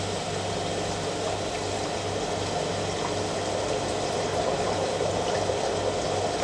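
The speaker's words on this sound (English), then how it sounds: "So let's put the pump back on." A water pump pushes water through the filter media of a Bakki pressure shower being installed in a basement, a steady, continuous rushing hum with a low motor drone, even and unbroken throughout.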